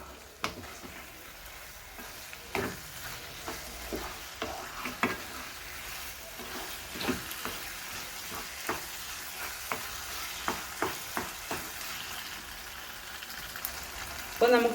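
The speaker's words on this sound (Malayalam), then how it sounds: "നന്നായി ഇളക്കി യോജിപ്പിച്ചിട്ട്" Brinjal curry being stirred in a pan, a steady low sizzle under repeated scraping spoon strokes at an irregular pace, fairly close, with no talking.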